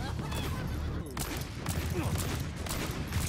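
Rapid gunfire in the video game Overwatch, a dense stream of shots under a speaking voice, fairly loud and continuous.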